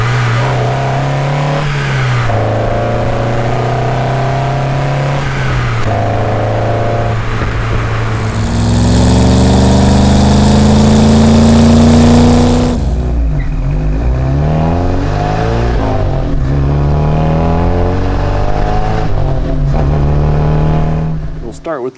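Car engine revving repeatedly, its pitch climbing and falling through gear changes, loud and close, with one extended high rev and a brief drop in noise near the end.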